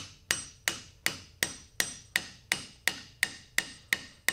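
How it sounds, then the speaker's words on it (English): Thirteen evenly spaced hammer taps drive bearings into the housing of a 98-year-old bandsaw during reassembly, sharp close metallic knocks at a steady rhythm of roughly three per second, with no voices. "these tap in just slightly past the housing"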